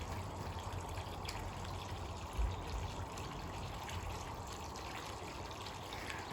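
Steady gush of water pouring into a temporary koi pond, a continuous broadband rush with no break, one brief low thump partway through and no voices.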